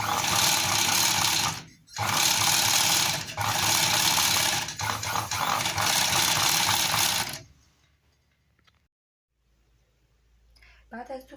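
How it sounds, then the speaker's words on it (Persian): An overlock serger finishing the raw fabric edges of a manteau, a loud close buzzing machine run in long bursts with brief pauses, then stopping as quiet handling and faint clicks follow. "برای اینکه این ریشه های کنارهای پارچمون از بین بره این قسمت رو سردوز میزنیم"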